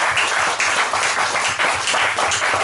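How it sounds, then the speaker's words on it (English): A congregation at a Sunday church service claps together in a loud, dense, continuous round of applause that fills the whole moment. "let us give him a round of applause"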